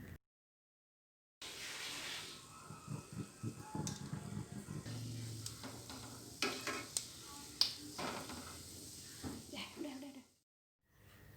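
Donuts frying in hot oil in a home kitchen, a soft steady sizzle with scattered clicks and stirring taps, fairly quiet and close, with no talking over it.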